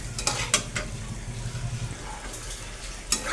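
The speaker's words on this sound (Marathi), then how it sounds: "मटण बघा कसं उतरून घेतले परतून घेतले" Mutton sautés in oil in a pan, a moderate sizzle broken by scraping stirs and clanks of a utensil against the pan, fairly close and without voices.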